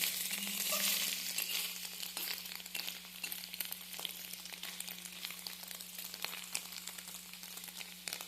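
Paneer pieces fry in hot oil in a wok, giving a steady, close sizzle with crackling spatter. It runs unbroken from start to end with no voices over it.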